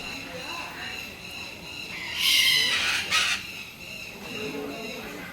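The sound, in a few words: loud parrots calling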